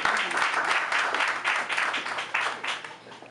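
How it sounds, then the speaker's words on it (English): A gallery audience gives a round of applause for Judith at an art event, steady clapping from a modest crowd with slight swells and dips. "Give a round of applause for Judith."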